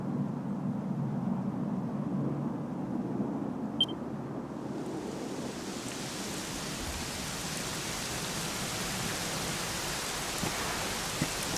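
Steady rain falls throughout, a dense even hiss of drops on surfaces that swells brighter and fuller after the first few seconds, with a couple of faint clicks and no voices.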